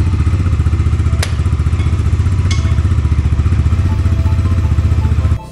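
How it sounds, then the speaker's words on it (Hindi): A motorcycle engine idles close by after starting, a loud, steady, rhythmic low putter with a couple of faint clicks, cutting out abruptly at the end. "बाइक हो गई अपनी ऑन"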